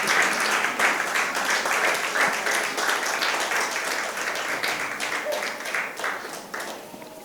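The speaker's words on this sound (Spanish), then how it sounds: "démosle palmas también al Señor porque Él es bueno" A church congregation claps together during a worship service in a long, steady burst of dense applause. It holds at an even level for several seconds, and faint voices mix in beneath the clapping.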